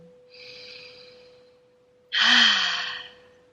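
Two breaths in a yoga class setting: a softer airy inhale followed by a louder, fuller breath drawn in near the microphone, with a steady faint hum underneath.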